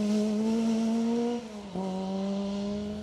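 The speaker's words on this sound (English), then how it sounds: "The 2-litre Cosworth engine much smaller than most of them around, but it was performing well and of course sounded brilliant." A rally car with a small 2-litre Cosworth engine holds a loud, steady high-revving note that dips briefly as it shifts or lifts, then picks straight back up, heard close and alone.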